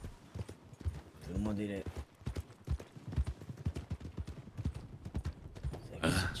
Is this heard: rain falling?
no